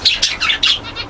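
Pet flock birds feeding on millet give a quick series of about five bright, close chirps in a rapid, uneven rhythm, alone without any voices.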